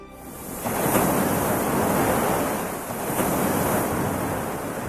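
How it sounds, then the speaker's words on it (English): Waves pound the shore of Lake Tanganyika, a loud, close surf roar that swells and ebbs in two broad surges, with wind buffeting the microphone. "with waves pounding its coastline"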